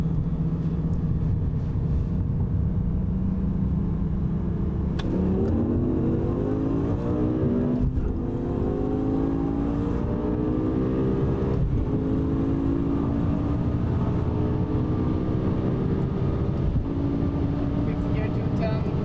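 A red BMW M6 and a Lamborghini Gallardo accelerate hard from a rolling start in second gear, engines rising in pitch through gear changes with steady loud drone, while a voice talks over them.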